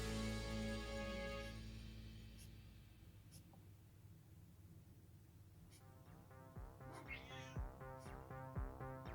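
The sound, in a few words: cat meowing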